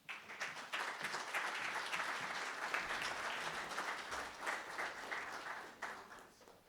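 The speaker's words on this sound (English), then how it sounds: "You guys aren't generous with the hand claps" An audience claps at a talk on water-efficient sanitation systems, a steady, moderately faint patter of hands lasting several seconds with no talk over it.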